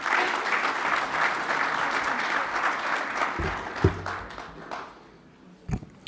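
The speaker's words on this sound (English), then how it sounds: "Please welcome a warm applause to Mr. Balmaceda." Warm audience applause welcoming a speaker at a presentation, a dense patter of many hands that gradually fades away, followed by a few scattered thumps and handling noises.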